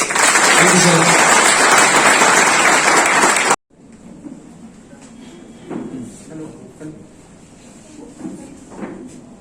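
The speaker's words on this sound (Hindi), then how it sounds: "यही शब्द थैंक यू वेरी मच, जोरदार तालियां" Seminar audience at a college bursting into loud, dense applause for a few seconds, then cutting off abruptly to a quieter room with scattered knocks and a voice speaking.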